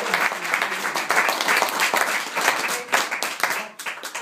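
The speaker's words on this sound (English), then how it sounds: "I'd just like to have a round of applause, ladies and gents, for the bridesmaids" Wedding guests burst into a round of hearty applause for the bridesmaids at a reception, dense overlapping clapping from a room full of people, steady and loud throughout.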